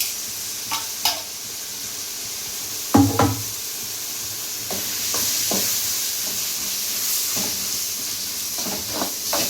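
Ginger garlic paste frying in a pan for prawn gravy gives a steady, close sizzle and hiss, broken by several sharp clacks and scrapes of a spoon stirring at irregular intervals.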